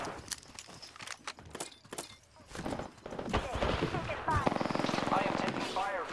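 Gunfire bursts in Apex Legends, rapid cracking shots clustered in the latter half over busy game sounds and a talking voice.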